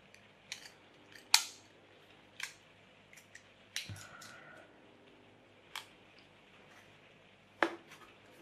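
Cutting open a metal can for a wooden pop pop putt putt boat: scattered sharp snips and metallic clicks at irregular intervals, close and quiet, with short pauses between cuts.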